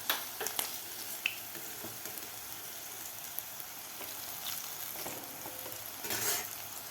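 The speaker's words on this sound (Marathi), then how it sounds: "ते सुद्धा अशा प्रकारेच आपल्याला तळून घ्यायचं आहे लसूण" Garlic frying in hot oil for a garlic fry side dish, a steady close sizzle with occasional stirring clicks and a louder burst of crackle near the end, no talking.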